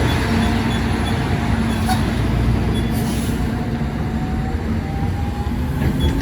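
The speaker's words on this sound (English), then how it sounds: "we got the train coming" Steady low rumble of a heavy train rolling in, with a faint rising whine and distant rail noise, continuous and moderately loud throughout.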